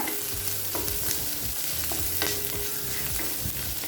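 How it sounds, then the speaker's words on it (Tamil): Garlic cloves sauté in a hot pan with a dense, continuous sizzle and repeated stirring scrapes, close and loud, with no voices. "பூண்டை நல்லா பச்சை வாசனை போக வதக்கிக்கலாங்க"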